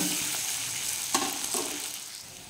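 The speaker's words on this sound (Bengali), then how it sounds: "আলুটাকে একটু ভাজা ভাজা করে নেব।" Potatoes frying in oil with turmeric in a pan for a hilsa fish curry with potato and eggplant, a close, steady sizzle with a few sharp pops and stirring clinks.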